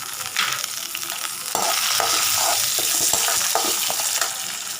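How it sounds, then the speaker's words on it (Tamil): Six garlic cloves and chillies sautéing in a pan over a low flame for a chutney, giving a bright, steady close sizzle with occasional stirring scrapes and no voices. "சிம்மில் வச்சு தாங்க இது வதக்கணும்."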